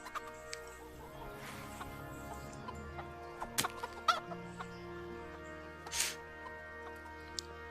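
A chicken clucking in a PC video game, with repeated short clucks and a couple of sharper calls over steady game music and ambient background. No one speaks.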